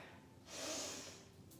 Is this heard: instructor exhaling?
yes